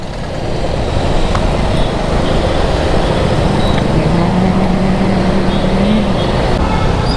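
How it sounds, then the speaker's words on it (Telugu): Heavy road traffic near Guwahati on the way to Kamakhya temple, a dense continuous roar of passing vehicles and engines close by, with a low engine tone rising in pitch midway and no clear talk. "కొంచెం ట్రాఫిక్ హెవీ ఉంది"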